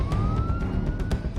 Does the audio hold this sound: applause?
no